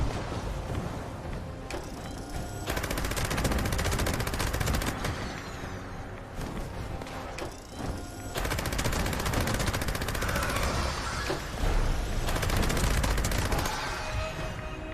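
Sustained, dense automatic gunfire in the video game Fallout 76, rapid bursts of shots running almost continuously with brief pauses around the 2, 5 and 8 second marks, loud and close.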